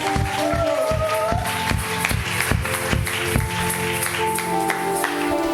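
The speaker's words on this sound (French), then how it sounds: "Est-ce que tu peux applaudir très fort pour le Seigneur?" A church congregation claps loudly in a steady rhythm of sharp, evenly spaced beats, with cheering voices and a bright sustained tone underneath, close and full throughout.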